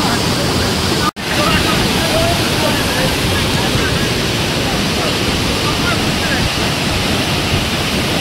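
Savdav waterfall crashing in a steady, loud broadband roar that fills the whole stretch, with one brief dropout near the start, then constant rushing water close by.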